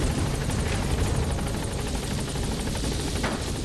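Helicopter rotor and engine roar in the Metal Gear Solid V video game as the aircraft arrives at a landing zone, a loud steady rumble with rapid blade chop filling the whole stretch.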